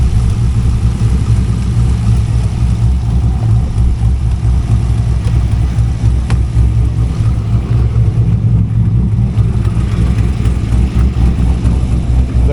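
A 2002 Chevrolet Corvette with a swapped LS3 V8 engine heard while driving, a loud, steady low engine rumble that stays close and constant throughout.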